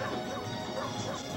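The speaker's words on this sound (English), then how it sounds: "Shut up, dog!" A dog barks in The Punisher arcade video game, with a quick burst of barking and yips mixed into dense game noise and clatter.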